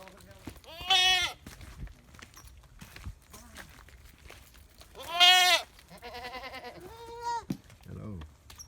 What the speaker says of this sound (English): Goats and sheep, everything.